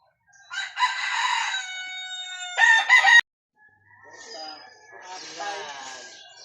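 A red junglefowl (labuyo) crowing loudly and close, two drawn-out calls followed by softer clucking and squawking notes after a short gap.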